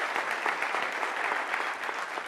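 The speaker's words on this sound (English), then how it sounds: "round of applause for that" Conference audience giving a sustained round of applause, dense steady clapping from a large crowd, fairly loud and continuous with no talk over it.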